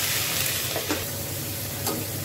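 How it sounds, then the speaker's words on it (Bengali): Drumstick flowers and eggplant fry steadily in a pan, a continuous close sizzle with a few soft stirring scrapes, no voices. "আমি ঢাকা দিয়ে এটা ভালো করে ভেজে নেব।"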